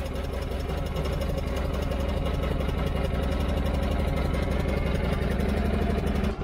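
A mini excavator's engine runs after winter storage, idling with a steady, close, throbbing rumble and a constant even rhythm all the way through.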